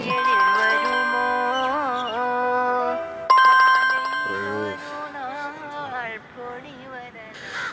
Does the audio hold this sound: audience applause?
no